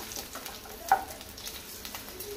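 Food frying in a pan, a low steady sizzle with one short clink of a utensil partway through, quiet and close.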